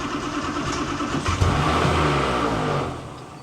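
A classic car engine cranks and catches, its steady rumble swelling into a running idle that fills the space up close, with no talking over it.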